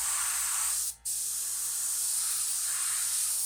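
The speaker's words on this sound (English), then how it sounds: "I'm going to make sure I tip the airbrush up a little bit so that any overspray stays in that direction" An airbrush spraying paint for hand-lettering a sign hisses in a steady, close stream. It cuts out briefly for a moment, then resumes evenly.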